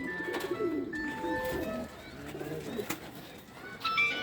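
Pigeons in a loft coo softly and continuously over a busy background of faint chatter and hum, with no clear voices standing out.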